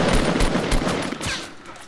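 Rapid gunfire in Fortnite Battle Royale, a dense burst of repeated shots close up that lasts over a second before tailing off into quieter crackles.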